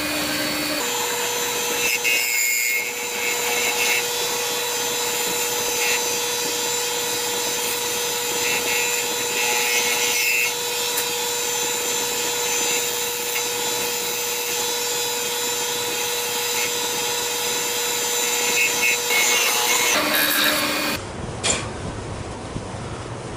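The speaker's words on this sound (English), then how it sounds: "so I've got my parting tool, and what I'm going to do is I'm just going to come in here and just come straight in" A parting tool cuts into a pink Alumilite pen blank spinning on a wood lathe, a continuous loud whirring hum with a scraping edge that runs steadily for about twenty seconds before the motor winds down.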